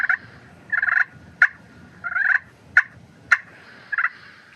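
Turkey clucks and yelps worked on a Pistol Creek pot call, a string of short sharp clucks mixed with raspy bursts in an uneven rhythm, close and clear with no talking.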